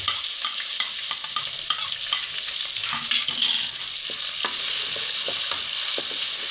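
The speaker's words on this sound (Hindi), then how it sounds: "तो इन प्याज़ों को 2 से 3 मिनट में अच्छी तरीके से घी में भूनूंगा" Two finely chopped onions frying in ghee for moong dal, a loud, close, continuous sizzle with crackles and occasional stirring scrapes, no talk.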